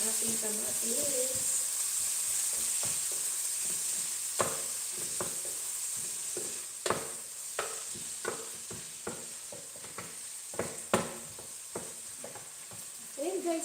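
Tomatoes sizzle steadily in a frying pan, a continuous close hiss broken by repeated scraping and stirring knocks from a utensil.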